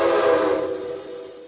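A loud, aggressive steam train whistle from a video game, made by mixing and pitch-shifting Lunkenheimer 3 and Alco 3 chimes, sounds as a single chord-like blast that fades away over about a second and a half.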